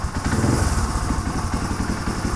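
A dirt bike engine idles roughly and unevenly, its low putter wavering and lurching with clattery mechanical knocks, loud and close throughout with no talking.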